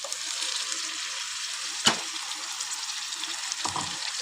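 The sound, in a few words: onions and drumsticks frying in oil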